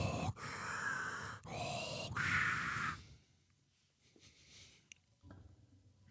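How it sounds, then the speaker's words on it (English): Heavy, rasping breaths fill a point-of-view stalking shot in the horror film My Bloody Valentine, several loud close inhales and exhales before the sound drops to near-quiet with faint shuffling. "there's some heavy breathing there"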